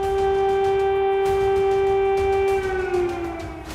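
A steady wailing air raid siren near the Gaza Strip holds a sustained tone, loud and continuous, then begins to drop in pitch near the end.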